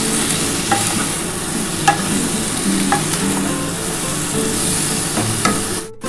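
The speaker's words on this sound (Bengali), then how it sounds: "এঁচোড়টা কিন্তু আমার সেদ্ধ করাই আছে বন্ধুরা, একটু ভালো করে ভাজা করে নিই।" Boiled jackfruit and potato frying in a pan with salt, turmeric and Kashmiri chilli powder, a steady close sizzle broken every second or so by sharp spatula scrapes and stirs, cutting off abruptly near the end.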